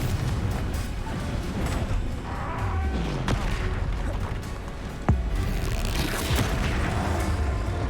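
Spell explosions crackle and boom through a busy fantasy battle in the video game Hogwarts Legacy, with a steady wash of magical blasts and a couple of sharper, louder impacts standing out.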